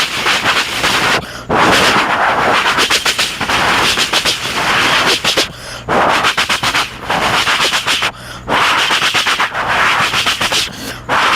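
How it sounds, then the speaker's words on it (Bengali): Fireworks sky shots bursting overhead, a loud run of sharp cracking booms and crackling bursts in repeated volleys separated by short pauses, with no voices. "এরপরে যে আওয়াজটা শোনা চলেছে একটি বাজি, যখন এটি আতশবাজি বা সেল বা স্কাই শট যেটাকে বলা হয়"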